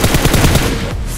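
A rapid burst of automatic gunfire from the video game Free Fire sounds as close, loud, evenly spaced shots over about a second, then breaks off.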